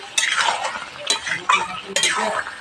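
Mutton curry with ash gourd being stirred and mixed in a pan, three or four scraping strokes of a spoon dragging through thick contents against the metal, close and distinct with faint sizzling between.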